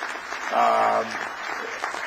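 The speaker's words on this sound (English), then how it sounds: "Good applause." Audience applause at the close of a conference session in an entrepreneurship track, a burst of clapping that peaks briefly and then thins out, with voices murmuring underneath.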